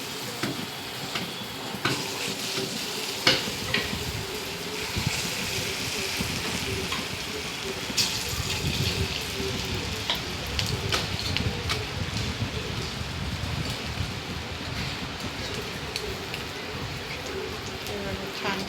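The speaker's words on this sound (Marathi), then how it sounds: "आता तेल छान तापलेलं आहे भजी टाकून घेऊ" Moong dal bhaji fritters dropped into hot oil, giving a steady crackling sizzle of frying that runs throughout, with a voice talking over it.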